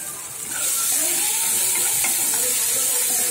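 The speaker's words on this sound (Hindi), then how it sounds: "तो हल्दी और मिर्च को जो हल्का सा भूनेंगे हम" Turmeric and chili powder frying with onion and tomato in a pan for pasta, giving a steady broad sizzle and hiss with light stirring that swells after a quiet start and stays loud throughout.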